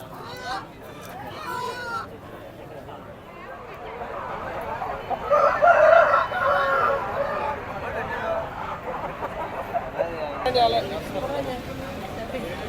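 Native roosters crow and chickens cluck amid a busy crowd at a poultry market in Timmiram, Anakapalli district, with people talking and chattering nearby throughout.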